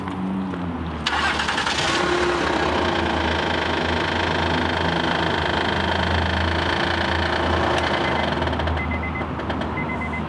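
A flood-damaged car's engine cranks briefly, catches and settles into a steady mid-pitched idle with an underlying rumble, close and loud, with a couple of faint clicks near the end and no talking.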